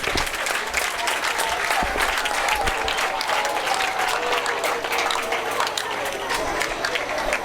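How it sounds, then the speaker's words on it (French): Loud, sustained applause from an audience at a school gathering, a dense steady wash of clapping lasting throughout with no break. "on applaudit très très fort pour Massengo"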